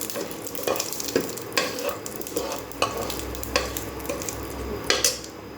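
Cumin seeds crackle in hot oil in a pan, a constant sizzle punctuated by repeated scraping strokes of a spatula against the metal.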